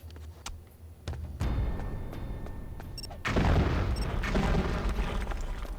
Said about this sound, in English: I want you to blow up the wall.